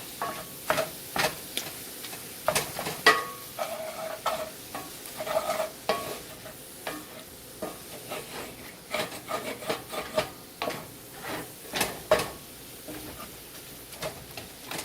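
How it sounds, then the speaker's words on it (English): Ground beef browning in a pot for one-pot taco rigatoni, with a steady background sizzle broken by frequent rhythmic scrapes of a spoon stirring the meat, close and fairly loud, with no talking. "I'm going to finish browning up this ground beef"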